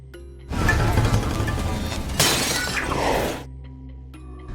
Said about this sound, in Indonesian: lift yang dinaiki Sanae tiba-tiba berhenti bergerak dan mulai bergetar dan menyebabkan cermin di sana pecah